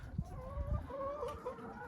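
Chickens clucking in a frosty winter coop with snow in the enclosure; a few short low clucks and soft calls sound close by, with a faint steady murmur of hens behind them and nobody talking.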